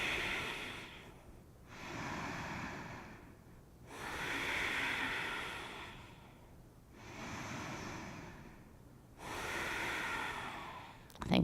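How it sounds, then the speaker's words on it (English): Slow, deep breathing during a yoga session: five long, airy breaths in and out, each one swelling and fading in a steady rhythm, close to the microphone with no talking. "Take 3 deep breaths."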